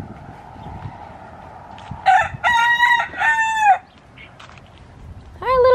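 Roosters crowing in a coffee garden in Hawaii, two loud nearby crows with drawn-out rising and falling calls over faint background clucking, the second starting at the very end.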